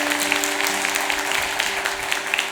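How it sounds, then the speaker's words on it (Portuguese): A church congregation at a Pentecost vigil applauds, a steady, fairly close round of clapping with a faint sustained tone beneath it, lasting the whole short stretch. "Então me dá uma salva de palmas para Jesus mais uma vez."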